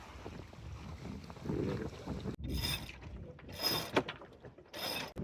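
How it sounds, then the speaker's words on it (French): Sails being hoisted on a boat in Pakistan: three bursts of rattling, ratcheting pulley and rope noise separated by short pauses, close by, with no voices. "On hisse les voiles!"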